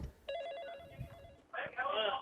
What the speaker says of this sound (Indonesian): Telepon masuk itu.